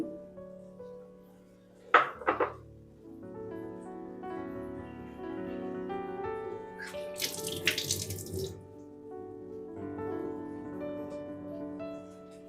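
Hilsa fish being washed in a kitchen under running tap water, a short hissing burst of flowing water after a couple of clatters, over soft background tones.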